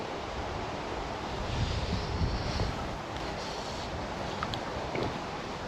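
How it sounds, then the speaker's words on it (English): Steady wind gusting outdoors beside the River Doon, a broad continuous rush with low buffeting swells in the middle, no voices. "the wind's come out"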